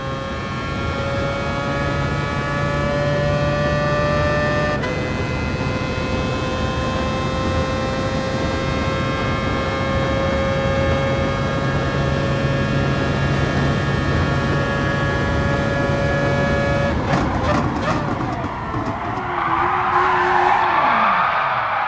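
A racing car engine in Gran Turismo Sport whines at high, steady revs on the La Sarthe circuit, shifting pitch once, then revving and screeching near the end.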